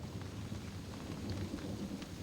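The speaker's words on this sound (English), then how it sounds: "It's just a thunderstorm." A thunderstorm during a power cut: steady rain pattering on surfaces with low rumbling thunder underneath, continuous and moderately loud, with no voices.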